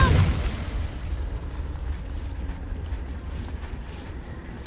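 An Expelliarmus spell is cast in Hogwarts Legacy: a sharp, loud burst at the start, then a rumbling, noisy tail that slowly fades.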